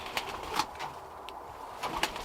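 Soft cooing from Birmingham Roller breeder pigeons in their loft, with a few scattered low calls and faint chirps spaced apart against a quiet backdrop.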